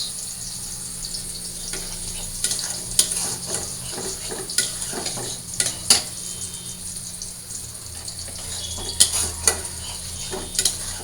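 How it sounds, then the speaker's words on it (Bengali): Spices being sautéed and stirred in a pan for a home-cooked curry, a steady soft sizzle broken by repeated scraping stirs and light metallic clinks, close up with no talking. "আর এদিকে মশলাটা ভালো করে কষাই নিই।"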